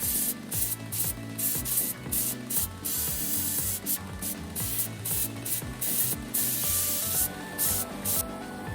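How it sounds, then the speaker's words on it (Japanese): Belt sander grinding and polishing a 440C steel kitchen knife, a narrow cut belt rounding the spine and bolster edges; a steady abrasive hiss with rhythmic rubbing strokes and brief gaps as the blade is lifted and repositioned. "細く切ったベルトで角を取りながら形が崩れないように磨いていきます。"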